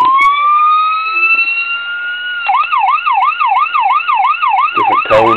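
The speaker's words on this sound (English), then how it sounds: "it's the same siren that most builders use, four-tone siren" A four-tone police siren from a 1:24 scale custom Ford Interceptor Utility diecast model sounds alone: a long steady rising wail gives way to a fast rhythmic yelp, then a quick shift to another tone at the very end.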